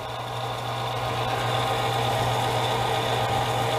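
A rotary tumbler rolls on steadily, its motor giving a constant, even drone with a low hum beneath, moderately loud and unbroken throughout with no voices.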